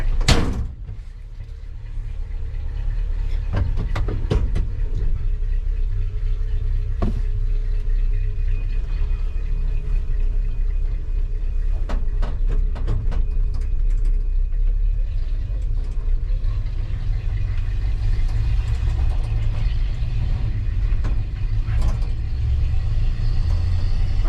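A car with a small-block Chevy engine and Pertronix electronic ignition drives along, a steady low engine rumble from inside the cabin after a door closes at the start, with scattered rattles and clunks.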